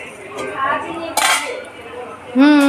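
Batata poha stirred in a pan with sugar, a spoon scraping and clinking against the metal in a few short bursts, with faint background noise.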